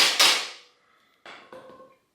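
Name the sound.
tapping bottom bracket part in on vintage Peugeot bike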